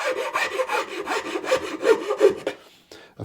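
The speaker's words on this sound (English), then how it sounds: "finer file just to clean that up." Close, brisk back-and-forth rasping of a fine file smoothing the wooden edge of an F-hole cut into a thinline bass body, about ten quick even strokes before stopping, with no talking.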